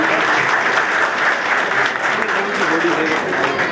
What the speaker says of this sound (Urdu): ان کے لیے بھی بہت ساری تالیاں ہونی چاہیے قربان انکل کے لیے